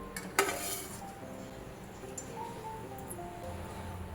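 Peas are fried in a pan with a spatula, a sharp metallic clink followed by light stirring and faint sizzling heard up close.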